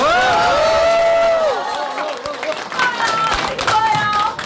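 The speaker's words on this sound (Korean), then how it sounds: "여러분 다시 한번 큰 박수 부탁드립니다" Crowd at a campaign office opening in Daegu claps as a candidate's wife is introduced, the applause building under a speaker's amplified voice and cheering.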